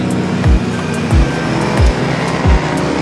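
A Suzuki Jimny on a dealership test drive in Taytay: loud, steady engine and road noise from inside the car, with four deep, evenly spaced thumps rolling by.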